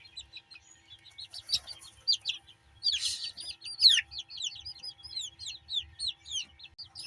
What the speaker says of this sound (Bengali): এগুলো হচ্ছে গোল্ডেন শেপার্ড মুরগির বাচ্চা।